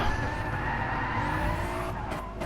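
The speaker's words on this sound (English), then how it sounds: "he's spun himself out. On board with Darren, that's where he hits the gravel" A race car spins off at Monza and slides into the gravel, its tires skidding with a steady, loud scraping roar and engine noise throughout, ending in a couple of short bursts of crunching at the end.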